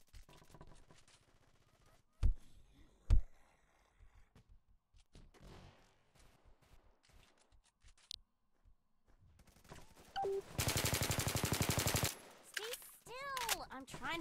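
Gunfire in a video game: two sharp isolated shots early on, scattered quieter clicks and game sounds in between, then a dense two-second burst of rapid automatic fire near the end.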